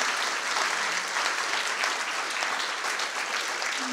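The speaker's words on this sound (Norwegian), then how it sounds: "en siste applaus" Members at a joint municipal council meeting give a final round of applause, a dense, uniform clapping that holds at a steady loud level throughout.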